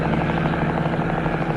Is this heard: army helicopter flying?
yes